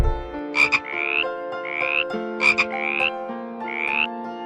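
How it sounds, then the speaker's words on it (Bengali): Frog croaking in repeated rising calls, heard over a bright musical backing in a children's Bangla alphabet rhyme, with four croaks in two quick pairs. "ইঙয়ে ব্যাঙ।"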